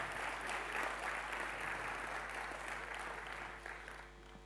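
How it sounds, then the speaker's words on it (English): Audience applause at a talk on just peace in The Hague, a steady sustained clapping from a crowd that holds fairly even and tapers slightly toward the end, with no speech over it. "This time you can clap."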